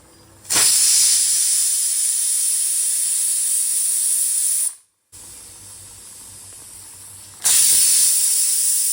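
Loud, steady hiss of steam venting from a pressure cooker cooking goat head, cutting out briefly, then returning softer before surging loud again.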